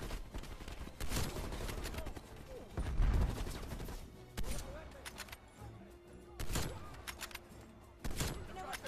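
Gunfire in the video game Call of Duty Black Ops Cold War, campaign mission, coming as several loud bursts spaced through the clip over a steady rumbling game background.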